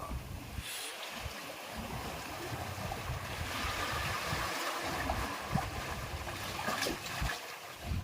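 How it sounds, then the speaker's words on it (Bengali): Sea waves surge and wash over rocks beside a natural stone arch on a Vizag beach, a continuous broadband roar of water and wind with steady loudness, no voices. "মাঝে মাঝে এমন স্রোত আসছে, এমন ঢেউ আসছে, পুরো ভিজিয়ে দেওয়া।"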